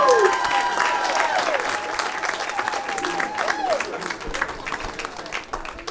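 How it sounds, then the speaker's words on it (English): Sustained audience applause at a stand-up comedy show, steady clapping from a crowd with a few whoops and talk over it, gradually easing off. "Start clapping right now."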